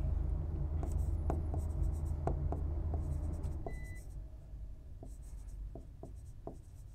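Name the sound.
writing on a board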